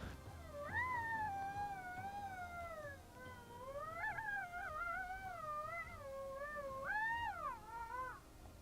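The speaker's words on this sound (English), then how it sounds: "So I like to do some female lone howls to start the standoff." Drawn-out wavering howls from a female coyote call rise and fall over several seconds, with other coyotes answering in the distance on open public land in Arizona, no talking.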